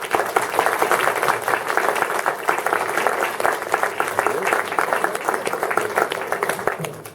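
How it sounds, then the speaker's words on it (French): Steady applause from a crowd at a comics festival opening, many hands clapping continuously and fairly loudly for several seconds. "on peut déjà commencer à les applaudir parce qu'ils le méritent"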